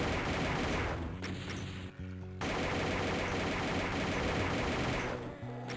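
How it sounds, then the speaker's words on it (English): Rapid, sustained fire from the chain gun in Doom II, loud dense rattling that breaks off briefly and then resumes, with no talk. "I'll use the chain gun for you."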